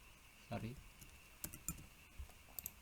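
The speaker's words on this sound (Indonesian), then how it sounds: "tekan Ctrl H di keyboard" Computer keyboard keys pressed for the Ctrl+H shortcut while editing a script file: a few scattered, crisp clicks and taps, near and fairly quiet, with a faint voice in the background.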